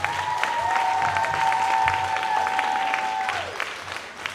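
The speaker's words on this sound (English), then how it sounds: "let's give a huge round of applause for Dylan who couldn't make it tonight" Audience applause fills a school talent show hall for a third-grade performer, steady dense clapping sustained for several seconds at full strength, with a sustained tone running through it and no voices over it.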